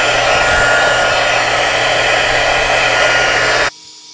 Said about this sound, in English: now to melt the embossing powder, you just need to get out your heat tool